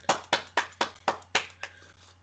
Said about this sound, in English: Can we have a collective clap for Mr. Maben?